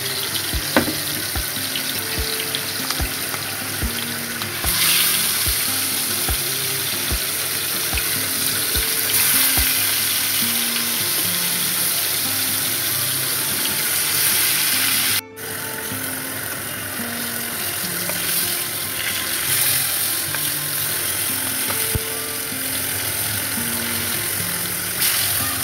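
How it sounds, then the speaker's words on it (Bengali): Pangas fish frying in very hot oil in a frying pan, a loud, continuous close sizzle and crackle holding steady throughout with a brief dip midway. "পাঙ্গাসটা আমি তেলে একদম গরম তেলে মাছটা ভাজবো"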